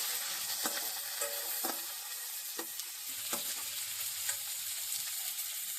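Onions and green chillies sauté in a hot pan for kichadi, giving a steady close sizzle broken by a few sharp scraping stirs, with no voices.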